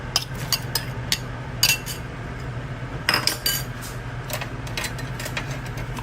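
Beef leg stew being stirred in a pot, with repeated metallic clinks and scrapes of a utensil over a constant low bubbling hum, close and fairly loud, with no talking.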